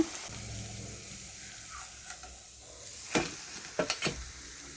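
Chiroti dough fries in hot oil over a medium flame with a soft, steady sizzle, joined toward the end by a few sharper clinks and stirring knocks close by.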